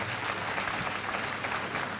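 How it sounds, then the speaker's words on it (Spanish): Audience at an agricultural-sector talk applauds a speaker, a sustained dense patter of many hands clapping at moderate distance. "Mirá qué fácil que conseguí el primer aplauso"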